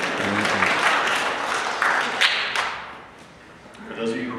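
A church congregation claps during a Lutheran sermon, a scattered burst of applause that swells and then fades, with a voice speaking over it near the end.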